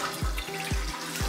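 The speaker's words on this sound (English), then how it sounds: "Now we'll check out the water pressure" Tap water gushes at high pressure in a newly built house, a steady rushing hiss broken by a few low, regular thumps.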